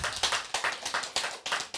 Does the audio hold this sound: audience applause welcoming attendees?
yes